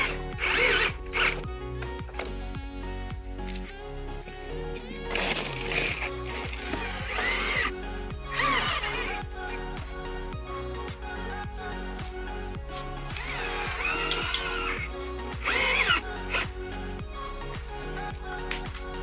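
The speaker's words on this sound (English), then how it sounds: "Pre-drilling the holes, so that then I can go varnish it" A power drill pre-drilling holes in wooden planks for an outdoor patio build, heard in several short whirring bursts separated by pauses, with close clicking and handling noises between them.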